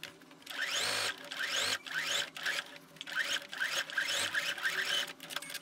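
A sewing machine runs a straight seam while a zippered bustier is sewn, buzzing in short, even bursts about once a second with brief pauses between runs, close and alone with no talking.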